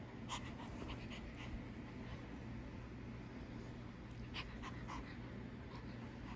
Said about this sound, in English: This is the cutest dog in the entire world.